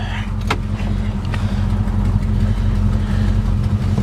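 A 1969 Chevelle SS engine running at a steady, low, rumbling idle close by, with a couple of faint clicks near the start.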